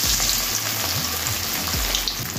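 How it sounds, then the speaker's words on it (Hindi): Masala-coated fish frying in hot oil, a dense steady sizzle and crackle close by, with no talking. "अभी इसको फ्राई होने देते हैं।"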